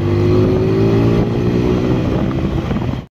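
TVS Apache 160 motorcycle exhaust running loud and close, a steady engine drone with a rising harmonic whine, then cutting off abruptly near the end.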